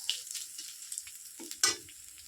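Tomato pieces hitting hot oil with ginger in a pan while a vegetarian drumstick (sajna danta) dish cooks, giving a short sizzling burst after light clinks, fairly close and moderate.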